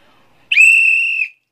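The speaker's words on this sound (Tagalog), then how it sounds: "malakas pa ang sipol ko" One loud, steady human whistle, clear and sustained for just under a second, with no other sound around it.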